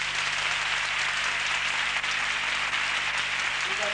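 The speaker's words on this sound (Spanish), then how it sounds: "Un aplauso muy fuerte para él." Theatre audience giving a loud round of applause for a play's author, a thick continuous roar of clapping that stays steady throughout, with a faint low hum underneath.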